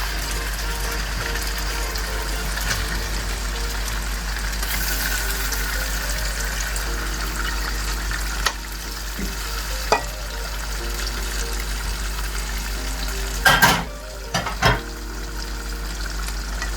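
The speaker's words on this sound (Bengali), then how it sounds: "চুলার হিটটা মিডিয়াম টু হিটে দিয়ে মাংসগুলো দিয়ে দিচ্ছি" Beef sizzles steadily in spice paste over medium-high heat, with a continuous frying hiss. A few sharp stirring scrapes and clatters come near the end.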